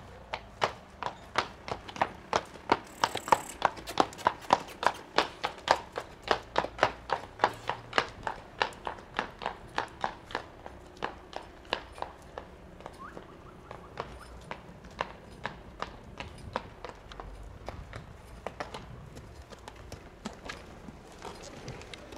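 A three-year-old horse walks with a steady, even clip-clop of hooves, close and crisp at first and then growing fainter as it moves off.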